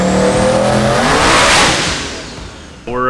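A built 5.1-litre Bullitt Mustang revs hard on a roller dyno, its engine note climbing and sweeping upward to a loud, sustained roar before easing off and then surging again near the end.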